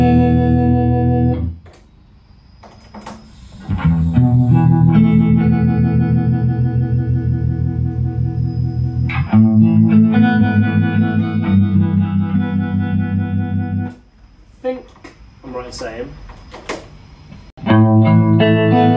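Electric guitar chords ring through a vintage amp with a pulsing, wavering harmonic tremolo effect, sustained phrases separated by brief pauses.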